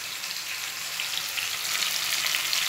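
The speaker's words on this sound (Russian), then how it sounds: "Жарится красная картоха." Steady, dense sizzling of sweet potatoes frying in a hot pan, continuous and close, with no voices.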